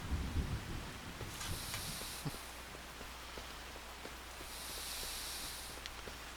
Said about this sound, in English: A little bit of thunder in the distance.